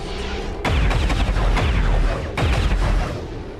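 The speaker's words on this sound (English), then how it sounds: "The explosion removes the Overwatch from the Advent troopers, plunges one into a lethal drop down below" Two heavy blasts in XCOM 2 hit Advent troopers, each a sudden loud boom with crackling debris and rumbling low end that rolls on before the second detonation lands close by.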